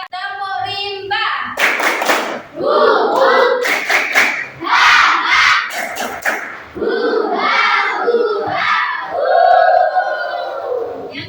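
A group performs the 'tepuk rimba' chant at a teacher training session, shouting in unison and punctuating the words with sharp, rhythmic bursts of clapping. The voices are loud and close, and the claps come in short patterned sets.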